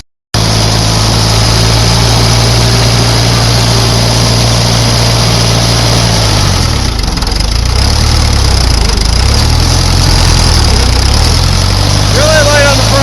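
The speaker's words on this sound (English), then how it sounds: "Let's go on to the next job with the backhoe." A backhoe engine runs loud and continuous close by, holding a steady drone before its pitch sags and climbs again as the load changes.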